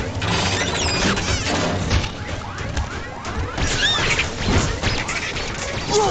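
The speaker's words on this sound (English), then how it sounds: "as Robo Bart, he can shoot through glass" Robo Bart firing through glass in The Simpsons Game, a dense, loud barrage of crashing, shattering impacts and mechanical clanks continuing throughout, with chirpy electronic sweeps layered over the din.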